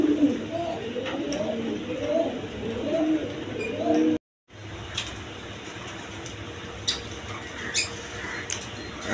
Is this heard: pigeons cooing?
yes